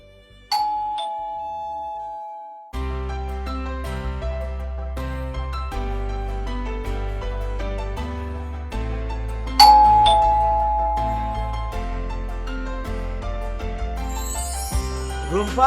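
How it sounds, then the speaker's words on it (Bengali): A two-tone ding-dong doorbell at a family home in a Bangla Eid TV drama rings twice, once near the start and again midway, each chime ringing out clearly over a steady background music score. "Are calling bell."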